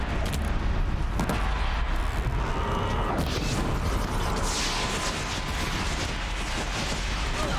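Explosions and mechanical combat noise from a machine battle in the video game Horizon Zero Dawn, forming a loud, continuous wash of booms and rumble with no clear individual blasts.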